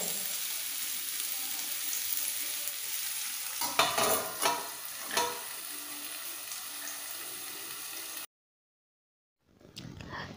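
Fish frying in butter in a pan, a steady sizzle with a few stirring knocks and bursts, then a sudden cut to silence before the frying resumes briefly.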